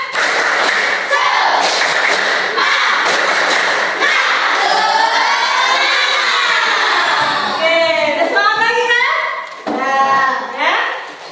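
A group of children chanting loudly in unison with rhythmic claps and thumps, followed by lively sing-song shouting that rises and falls.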